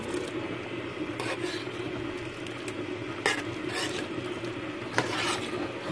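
Meat goes into a pot of cooked Jamaican stew peas, bringing a steady low bubbling simmer with occasional spoon scrapes and soft knocks against the pot.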